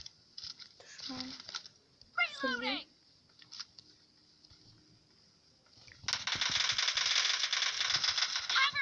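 Two short, close cat meows in PUBG Mobile Lite sound early on, followed by quiet, then a burst of steady rattling noise toward the end.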